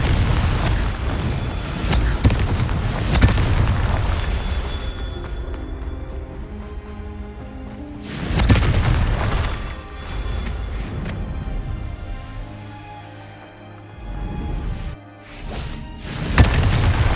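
Explosions from the Confringo blasting spell in the Hogwarts Legacy video game: repeated loud, deep booms with long rumbling tails, one after another at close range, heard without talk.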